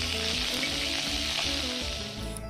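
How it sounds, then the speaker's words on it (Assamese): Goroi fish fry in hot oil with a loud, dense, continuous sizzle that stays close and constant for the whole stretch, with no talking. "গৰৈ মাছকেইটা এতিয়া ভাজি লওঁ।"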